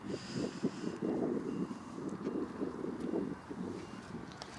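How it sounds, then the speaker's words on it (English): Gusty wind buffeting the microphone at an outdoor archery range, loud rumbling bursts rising and easing in irregular waves. "The wind has picked up as well"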